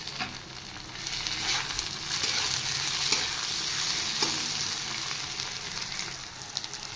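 Chopped onions fry with garlic in a pan, a steady, moderate sizzle and crackle running throughout, with soft stirring scrapes now and then.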